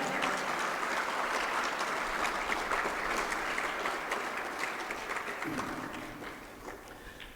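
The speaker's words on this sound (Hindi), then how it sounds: "जोर से ताली बजाओ।" Spectators applauding at a school's provincial sports competition in Noida, a broad outdoor wash of clapping from a crowd that gradually thins and fades, with some voices mixed in.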